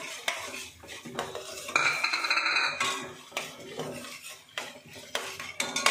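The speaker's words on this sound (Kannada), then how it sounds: "ಈಗ ನಾನು ಸ್ವಲ್ಪನೇ ಗೋಡಂಬಿ ಹಾಕ್ಕೊತಾ ಇದ್ದೀನಿ." Cashew nuts tossed into a pan with toasted urad dal and stirred, with repeated metal spoon scrapes and clinks against the pan, a faint sizzle underneath, and no talking.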